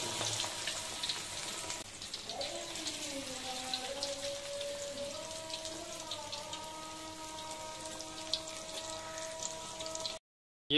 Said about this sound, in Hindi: फिश जो है अब ये फ्राई हो गई